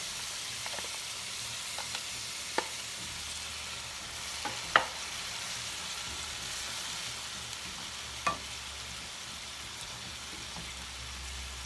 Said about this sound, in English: just kind of let that saute a little bit, and I'm going to put the spinach right in there